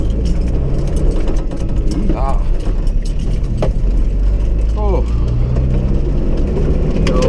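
A Toyota Hilux drives along with a steady low engine hum and road rumble, continuous and close, while a person talks over it.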